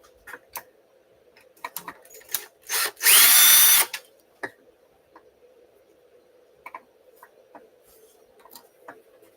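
A power drill backing screws out of a UDR body on a workbench: one loud whirring burst of about a second, surrounded by scattered clicks, taps and small handling knocks against a faint steady hum.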